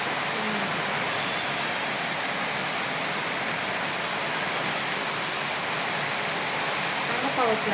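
Rain falls heavily and steadily in a village during a sudden downpour, a dense, even wash of noise that continues for the whole stretch, with faint voices underneath.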